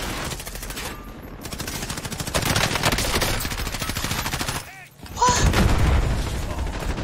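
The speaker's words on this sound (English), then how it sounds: "He was shooting the fucking wall next to me." Sustained automatic weapon fire in a Call of Duty match, loud and continuous with rapid repeated shots, a brief lull near the end before heavy firing resumes.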